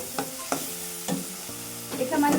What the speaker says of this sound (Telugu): వేసుకున్నాక కాస్త ఫ్రై చేసుకోండి చూడండి జస్ట్ టూ సెకండ్స్